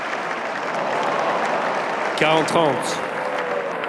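Crowd applause at the Roland-Garros men's final after Nadal's running forehand winner against Wawrinka, a steady wash of clapping from the stands under a brief announcer's call.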